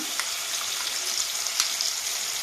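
Onion paste hitting hot oil in a pan while cooking snakehead fish kosha, giving a bright, even hiss of frying with small crackles, close and continuous without any talking.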